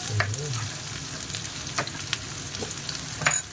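Tomatoes and onions sizzle in a hot pan while a utensil stirs them, giving a steady fry with several distinct scraping and clinking strokes.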